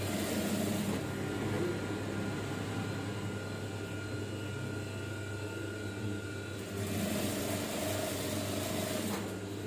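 Continuous sewing-machine whir runs steadily while stitching a trouser hem, with a constant mechanical hum and a slight change in tone near the end, loud and close with no voices.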